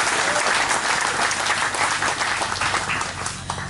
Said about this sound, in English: So I'd like to give them another round of applause